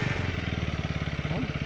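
A motorcycle engine runs close by with a rapid, even pulsing putter at idle or low revs, steady and loud, briefly rising in pitch near the end.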